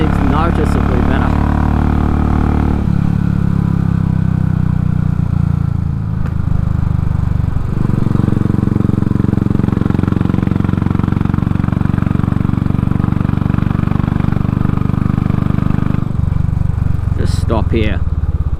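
A Royal Enfield motorcycle fitted with a Race Dynamics Powertronic unit on a road test ride, its engine droning loudly and steadily with rising and falling revs and wind rush, a brief dip near the middle and some clatter near the end.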